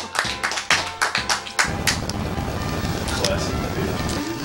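A small group at a DeuceCon 2015 speedrun gathering claps, starting with a handful of sharp, close, rhythmic claps that spread into a denser burst of mixed clapping and background noise.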